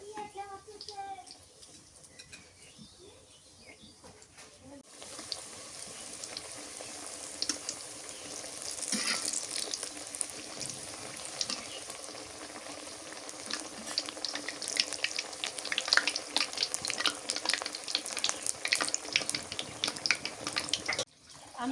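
Eggplant fritters fry in hot oil with a bright, crackling sizzle that starts after a quieter opening and grows louder and denser, while people talk intermittently nearby.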